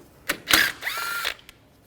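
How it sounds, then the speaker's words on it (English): A 10mm socket on a ratchet or power driver spins a bolt out of the coolant reservoir on a 2007-2013 Mini Cooper, giving a short close whirring burst after a couple of clicks, with no talk. "Remove the bolt from the reservoir, use a 10mm socket."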